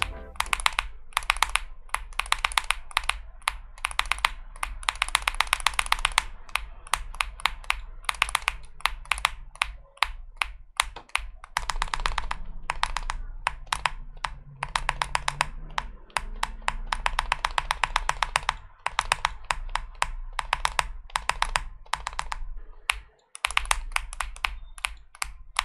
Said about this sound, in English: If you're interested in how the silent switch variant sounds like, I tested it on the A75 Pro.